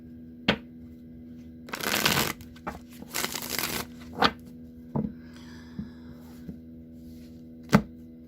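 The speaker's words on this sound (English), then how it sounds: "I want to shuffle one more time. Then I'll cut the deck and draw 3 cards." Tarot cards are shuffled in two quick riffling bursts, with scattered taps and soft thumps of the deck between them over a low steady hum.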